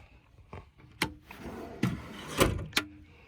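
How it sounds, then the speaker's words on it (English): Storage drawers on a Lund Pro boat slide and thump shut, giving several sharp knocks and rattles in a quick uneven series, close and fairly loud, with no talking. "It comes with these pretty cool drawers. storage drawers on the bottom here."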